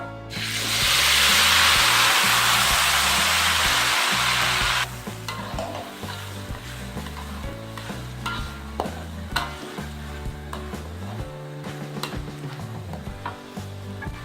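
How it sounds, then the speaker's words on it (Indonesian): Loud, steady sizzling of chili peppers frying in hot oil for about five seconds, then quieter stirring and scraping with occasional clinks. "Setelah minyaknya panas, lalu kita goreng."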